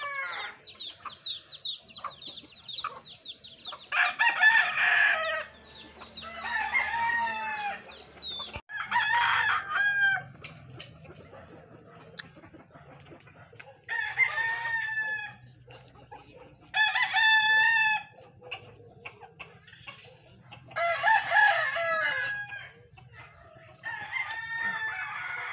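Two mother hens and their scattered chicks cluck and call in bursts at a Davao farmyard, with repeated loud hen vocal phrases over softer chick peeps and faint background voices.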